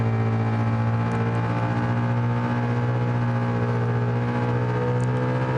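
A racing car engine in a PS4 driving game drones at steady high revs with a strong buzzing whine, loud and unbroken throughout and with no talking.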